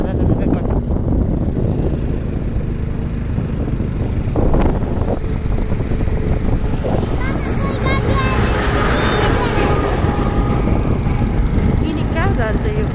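A motorbike engine runs during a ride in Mustang, Nepal, its steady drone half buried under loud wind buffeting on the microphone, while people talk over it.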